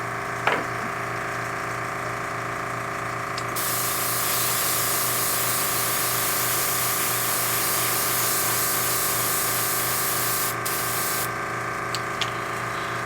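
An airbrush sprays paint onto Eldar defence wall terrain pieces, a steady close hiss that starts a few seconds in, runs continuously with one brief break near the end, and sits over a constant low mechanical hum.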